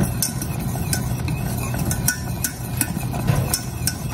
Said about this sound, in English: I'm going to continue to whisk because you do not want this to burn on the bottom.